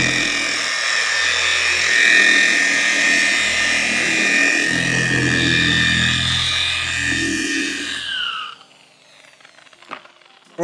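Electric car polisher whirring at its lowest speed setting while spreading polish across a panel with a beveled cone pad, a steady close high hum that shifts slightly with pressure, then winds down and stops near the end.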